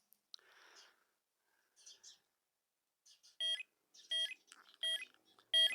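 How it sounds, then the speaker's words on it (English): A series of four short electronic beeps from a Royal Enfield Hunter motorcycle's aftermarket indicator beeper repeats at a steady pace, clear and close, after some soft whispered talk and rustling. "always gives that little beep to start with"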